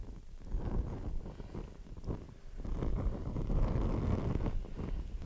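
Alcohol stove burning outdoors in high wind, its burner shielded from the gusts: a continuous low rumbling roar of wind buffeting the microphone, steady and fairly loud throughout with no voices.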